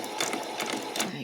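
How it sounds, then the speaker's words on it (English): A sewing machine back stitches a skirt hem in a short burst of rapid, rhythmic mechanical clatter, close up, with no talk. "I'm just going to finish it with a back stitch."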